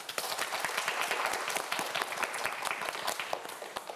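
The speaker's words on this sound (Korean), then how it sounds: "우리 2라운드 15문제를 앞두고 있는 네 학생 모두에게 여러분 큰 박수 부탁드립니다" Studio audience applause on a televised student quiz show, a dense wash of many hands clapping steadily and loudly throughout, with no voices over it.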